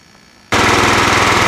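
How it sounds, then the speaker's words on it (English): A John Deere L110 lawn mower engine suddenly catches and roars to life after near silence, running loud and steady with a rapid pulsing rumble close by. "try to fire up that lawnmower"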